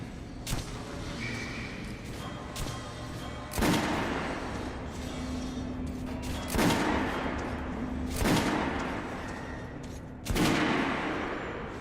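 Repeated gunshots on a shooting range in the video game Metro: Last Light, several sharp loud reports spaced a few seconds apart over a steady background rumble.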